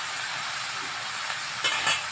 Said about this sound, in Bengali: পরিমাণ মতো হলুদের গুঁড়া দিয়ে সবজিটি আমি ভাজা ভাজা করে